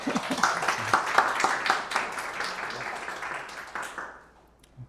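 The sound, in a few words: audience applause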